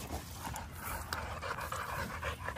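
A dog pants quietly nearby, with soft rhythmic breaths and faint whimpers outdoors on grass, low in level.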